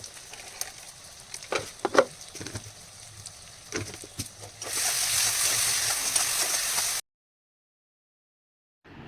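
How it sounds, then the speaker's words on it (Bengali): Ground spice masala sizzling and being stirred in a pan, with scattered spoon scrapes and clinks giving way to a louder steady frying hiss that cuts off abruptly into silence. "এই দিয়ে ভালো করে মশলাটা কষিয়ে নিয়ে একটুখানি ঢেকে দিয়ে তারপরে রান্নাটা করে নেব"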